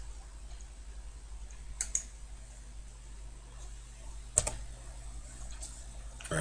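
Two sharp, isolated mouse clicks on a computer desk while working in CAD software, spaced a few seconds apart over a low steady hum, with no talking.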